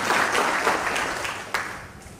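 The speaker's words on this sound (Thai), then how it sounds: "อยากให้ปรบมือให้กับพี่แป๋วผู้ดูแลการเรียน" An audience gives a brief burst of clapping that stays fairly even and then tapers off within a couple of seconds.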